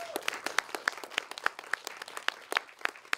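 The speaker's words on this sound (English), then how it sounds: "Can we give her a round of applause?" Sparse applause from a workshop audience, individual claps ringing out in an uneven rhythm, fairly close and distinct rather than a dense wash.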